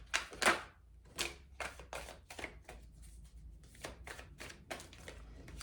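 Tarot cards being shuffled by hand in a quiet room, a run of crisp riffling bursts and soft slaps that repeat in uneven rhythm, close to the listener with no talking.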